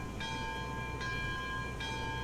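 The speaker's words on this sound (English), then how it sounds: "We'll use the bell too." Locomotive bell in the train game Railroads Online, three clear metallic rings at an even pace over a low steady engine rumble.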